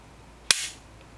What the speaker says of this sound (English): You know, I just like the click.